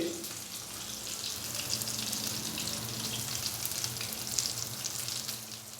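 Potato and chana dal kebab patties frying on a tawa, a steady close sizzle and crackle of hot oil that holds evenly throughout with no talking.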